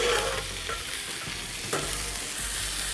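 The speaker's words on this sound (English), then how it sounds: "So we're going to go ahead and put our sausage that's been beautifully seasoned." Seasoned bear sausage fries in a pan, giving a steady, close sizzle with crackling spatter throughout and a couple of brief stirring or shifting sounds, with no voices.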